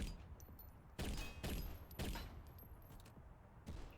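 Gunfire in the video game Synthetik 2 comes as several loud, punchy shots in irregular bursts about a second apart, each with a short decaying tail, over a quiet background with no voices.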